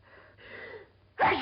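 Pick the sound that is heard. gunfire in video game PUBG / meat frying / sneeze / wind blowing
sneeze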